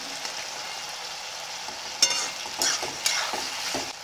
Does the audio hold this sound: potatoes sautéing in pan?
yes